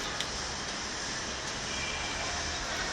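A tram passes along a main street in Alexandria, seen from an apartment balcony: a steady broad rumble of wheels and traffic noise, fairly close and continuous, with no one talking.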